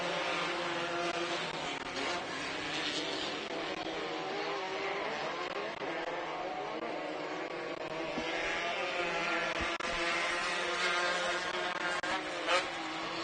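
Limited 1600 buggy race cars run a short course track, several engines merging into a dense, steady, high-revving drone that stays loud and continuous with no break.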